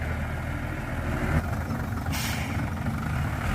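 A Fuso truck reversing at a work site near an excavator, its diesel engine running with a steady, loud mid-range rumble and a brief hiss of air partway through.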